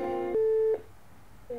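A telephone call signal heard while calling a police station: a short steady electronic tone, a pause, then the tone starting again, clear and alone on the line.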